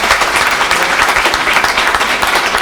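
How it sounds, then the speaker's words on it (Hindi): An audience at a poetry gathering in India breaks into dense, steady applause, loud and continuous throughout with no pauses. "एक बार तालियां बजा के उनकी थकान"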